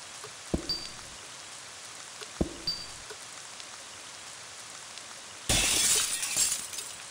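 In the video game Ib, a mannequin head is smashed: two sharp knocking impacts a couple of seconds apart, then a bright crash of breaking glass-like debris against a quiet background of faint rain.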